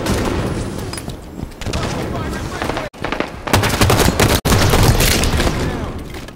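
Loud, sustained automatic gunfire in a video game firefight: dense rapid bursts that run almost without a break for several seconds, with two sharp momentary cutouts, while voices talk underneath.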